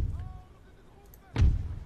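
Cannon fire from artillery in Napoleon: Total War, a single loud, deep boom bursting in near the end after a stretch of quieter battlefield ambience with faint voices.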